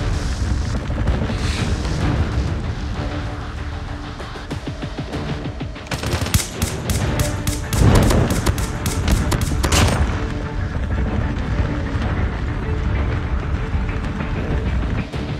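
Call of Duty match with dense gunfire throughout, including a fast burst of automatic fire in the middle, loud and close, with booms and clatter layered over steady game noise.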